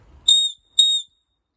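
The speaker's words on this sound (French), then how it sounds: "ce sifflet là fonctionne très très bien." Two sharp, shrill blasts from a plastic safety whistle, each about a quarter second long, separated by a short gap, loud and close with nothing else around them.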